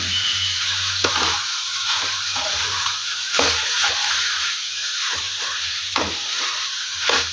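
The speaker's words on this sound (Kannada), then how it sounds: "ಹಾಗೆ ಮೆಣಸೆ ಹಣ್ಣನ್ನು ಕೂಡ ಇದಕ್ಕೆ ಹಾಕೊಂಡು ಫ್ರೈ ಮಾಡ್ಕೊಳ್ತಾ ಇದ್ದೀನಿ" Chillies fry in a pan for green tomato chutney, with steady close sizzling and hiss broken by occasional clinks and scrapes of stirring, and no voices.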